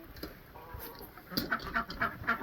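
Chickens cluck in a homestead setting, with a short series of nearby clucks and calls growing busier in the second half.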